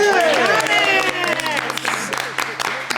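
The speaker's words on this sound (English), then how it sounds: "Can we get a round of applause for Thomas?" Applause rises from an audience while a voice talks over it, clapping continuing as a dense patter under the speech.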